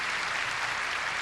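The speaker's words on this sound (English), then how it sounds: "A nice round of applause" Steady applause from a live Grand Ole Opry audience, a dense even wash of many hands clapping at a distance, with no voices over it.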